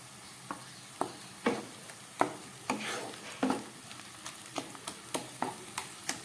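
Onion paste frying in oil in a pan for a rich mutton curry, a steady sizzle broken by regular scraping stirs about every half second, close and fairly loud, with no voices.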